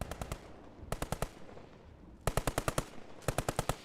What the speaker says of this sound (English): This MG over here is doing a good job as well, suppressing that south flank.